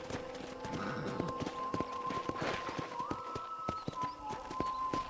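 Horse hooves clip-clop at a trot in the Red Dead Redemption western video game, a quick regular clatter under steady tonal background music.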